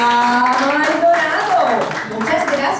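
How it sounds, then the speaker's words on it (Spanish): A church congregation applauds for the pastor during a puppet class on the Armor of God, with clapping running underneath a loud voice. "Amén, hermanos, un fuerte aplauso para el pastor Pedro"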